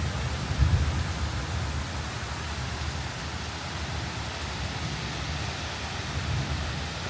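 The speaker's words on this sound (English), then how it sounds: "Cooper, do you have anything to say about this rainstorm?" Steady rainstorm falling on a farm, a constant close hiss of heavy rain with a low rumbling undertone, uninterrupted and without talk.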